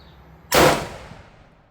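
A single sharp report from a Mosin carbine firing 7.62x54R, a loud sudden blast followed by a short fading echo tail, heard alone outdoors with no talking.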